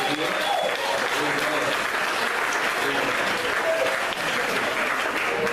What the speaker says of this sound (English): We're doing a lot of clapping tonight